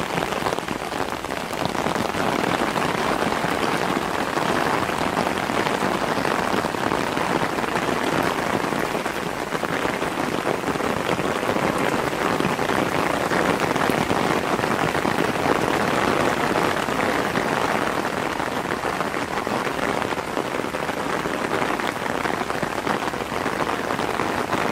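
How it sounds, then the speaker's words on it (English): Light rain falls steadily on an outdoor garden decking site, a constant dense patter and hiss of drops that stays even throughout, with no voices. "It's raining a little bit."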